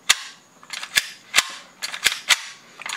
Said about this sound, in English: I'm gonna rack this for you guys.